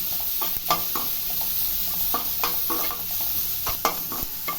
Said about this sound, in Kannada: ಈರುಳ್ಳಿ ಫ್ರೈ ಆಗಿದೆ ಶುಂಠಿ ಬೆಳ್ಳುಳ್ಳಿ ಪೇಸ್ಟ್ ಹಾಕ್ತಾಯಿದ್ದೀನಿ